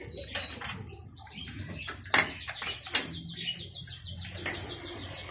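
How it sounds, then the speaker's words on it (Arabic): Small birds, sparrows, chirp and tweet in a rooftop setting with pigeons kept nearby, a steady busy chatter of calls with a couple of sharper louder chirps, fairly close, no talking. "هاي سامعين صوت العصافير عندنا بتهدرب"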